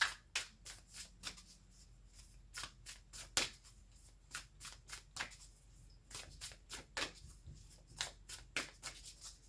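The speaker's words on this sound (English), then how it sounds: "let's pull an oracle card for you." Quiet, close riffling of a deck of oracle cards in repeated bursts of crisp flutters and taps, with brief pauses between shuffles and no talking.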